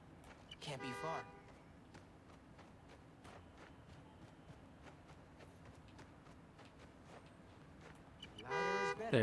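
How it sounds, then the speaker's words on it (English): Car horn honks in the Spider-Man: Miles Morales video game, sounding as two short bursts, one near the start and one at the end, with quieter game ambience between. "Follow the honk."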